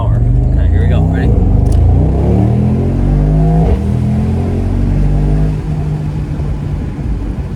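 A Mercedes-AMG SL 55 engine accelerates hard, a loud, steady low rumble rising through the revs over several seconds, heard from inside the car with faint cabin noise.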